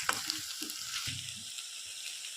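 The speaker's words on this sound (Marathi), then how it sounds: "यामध्ये आता मी आलं लसूण पेस्ट टाकतोय आणि याला पण परतून घेऊया" Ginger garlic paste hitting softened onions in a hot pan for a chicken dish, a bright close sizzle with a few quick stirring clicks at the start that then settles into steady frying hiss.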